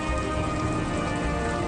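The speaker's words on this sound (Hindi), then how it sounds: "बारिश की कुछ बूंदें गिरने लगी" Raindrops begin to fall and quickly become a dense, steady patter of rain on a surface. The sound is close and continuous throughout, with no voices.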